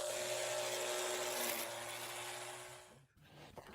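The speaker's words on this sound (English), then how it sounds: "First, we trimmed some taller grass at the edge of the field." A Bosch UniversalGrassCut 18 cordless grass trimmer cuts tall grass at a field edge, giving a steady high motor whine with a rough cutting buzz. It is faint but close, then cuts off near the end.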